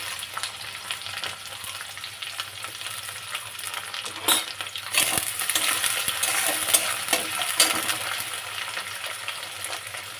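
Shrimp and onion sizzling steadily in a hot pan, with a spoon scraping and stirring through them at close range and a few sharper clatters from the pan, no talking.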